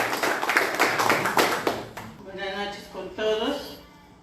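At a birthday celebration, a short round of audience clapping rings out briskly for under two seconds and then gives way to someone speaking, with the voice continuing alone to the end.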